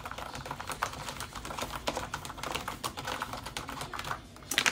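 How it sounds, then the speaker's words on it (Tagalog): Rapid typing on a wireless computer keyboard: dense, uneven keystroke clicks patter close to the microphone, with a louder burst of keys at the end and no voices. "So, ang keyboard niya, ito yung normal keyboard."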